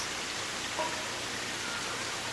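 Steady rain falls over a Japanese garden with maples, an even soft hiss of drops on leaves and surfaces, constant and moderately quiet with no voices.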